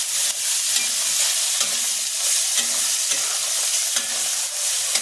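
Asafoetida, salt and chilli frying in hot oil in a pan before the okra goes in, a loud steady sizzle with rhythmic stirring strokes repeating about every second, no talk.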